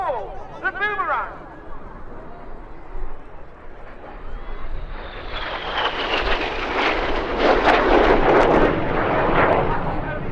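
Red Arrows jets of the synchro pair roar through the Boomerang manoeuvre at an RAF Cosford airshow, the engine noise swelling loud as they pass close while a commentator talks over it.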